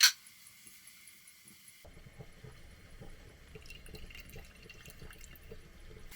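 Water poured into a pot of broccoli in a truck camper kitchen, a steady splashing trickle that grows slightly fuller over several seconds, close and moderately quiet after a brief sharp clink.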